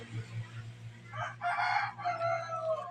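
Chickens and a rooster on a farm, with a low repeated clucking throughout and a loud crow rising near the middle and continuing to the end.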